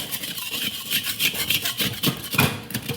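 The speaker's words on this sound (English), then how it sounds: "Once I get this all scraped down of all the hard stuff as much as I can get off" Rough, rhythmic scraping of hard, decades-old residue off an old Weber charcoal grill, repeated close strokes with no talk.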